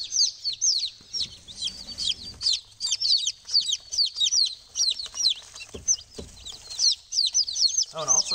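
Newly delivered hatchery chicks, including barred rocks, chirp constantly in dense, overlapping high peeps at close range, with soft rustling underneath.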